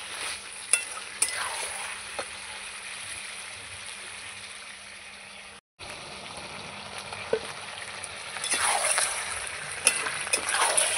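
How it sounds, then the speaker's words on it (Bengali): Potatoes are stirred into chicken curry frying in a pan, with a close, continuous sizzle under repeated spoon scrapes and knocks; a brief dropout in the middle, then a louder burst of sizzling. "আলুগুলো দিয়ে ভালো করে আমি নাড়াচাড়া করে মাংসের সঙ্গে মিশিয়ে নেব।"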